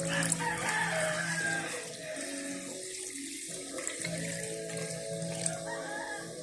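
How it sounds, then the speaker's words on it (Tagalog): Mineral water poured into a pot for chicken tinola makes a steady, continuous splashing pour, with a rooster crowing intermittently in the background. "Tapos lagayan na ang mineral tubig."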